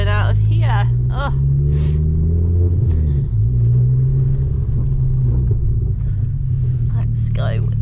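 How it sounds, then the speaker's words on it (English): A 300HP Ford Focus ST pulls away on a foggy night, its engine rumbling low and steady up close inside the cabin while someone talks over it throughout. "Take you for a little spin in the rusty autos built Ford."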